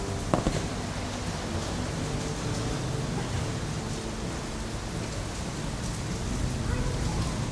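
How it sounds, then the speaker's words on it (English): Steady rain patters down around an outdoor charcoal grill with a bed of coals, a dense, unbroken hiss of drops that holds at an even, fairly loud level throughout. "Starting to rain on me."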